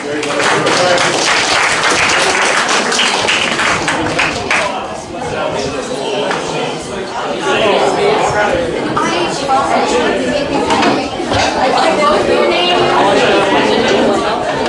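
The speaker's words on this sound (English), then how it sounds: "Round of applause so far for everybody involved" A debate audience gives a sustained round of applause, dense clapping mixed with crowd chatter and murmuring voices, loud throughout.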